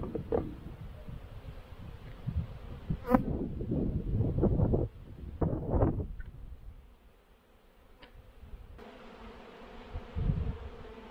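Honey bees buzz densely around an open hive during a brood inspection, with a steady close drone and scattered bumps and rustles of frames being handled.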